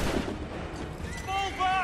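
Artillery and gunfire boom in an Assassin's Creed III battle scene, a dense, loud barrage that rolls on for the whole stretch with blaring tones rising near the end and no talk over it.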